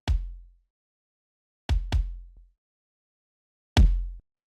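A dry electronic kick drum without saturation, from a warped drum beat, strikes four times in an uneven pattern, a quick pair in the middle, each a short punchy thump with a decaying low tail, clear and alone.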